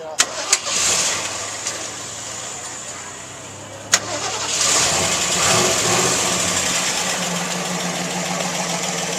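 A 1970 Ford Mustang Boss 302 V8 with solid lifters cranks with a few sharp clicks, fires up and settles into a close, steady idle with a noticeable ticking, while people talk over it.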